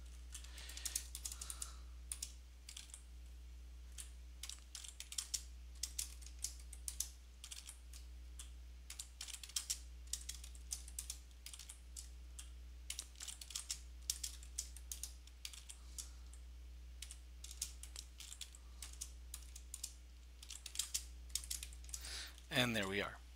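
Someone types on a computer keyboard while writing code for a customer management program, with quick, irregular bursts of clicks running throughout at a modest level.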